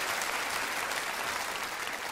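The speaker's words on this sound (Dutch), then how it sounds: "Dames en heren, in de bloemen, geef hem een geweldig applaus." A studio audience claps without pause for a singer on a Dutch variety show, a full, even wash of loud applause from start to finish.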